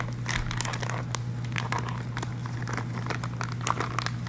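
A knife cuts through pork fat for rendering into lard, giving irregular crinkly, crunchy slicing sounds close up over a steady low background hum.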